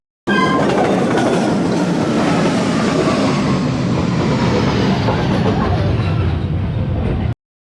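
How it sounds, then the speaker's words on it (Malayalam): A train rolls slowly along Hanoi's narrow train street, loud and very close, with a brief horn-like tone at the start and then a continuous rumbling clatter of wheels that stops abruptly. "പിന്നെ അത് വരുന്നു, ട്രെയിൻ."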